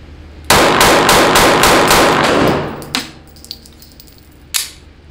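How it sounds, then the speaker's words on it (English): An SCCY CPX-2 handgun fires six rounds in quick succession, loud sharp evenly spaced cracks at close range, followed by a couple of separate isolated shots and faint ringing. "six rounds in the chest as fast as we can"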